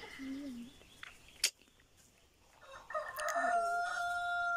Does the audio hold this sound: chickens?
yes